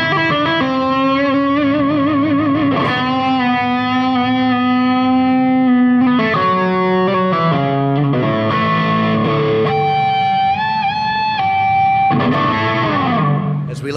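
Overdriven electric guitar through a mini stack amp plays a sustained, distorted melodic line with bends and vibrato, loud and continuous throughout with no talking over it.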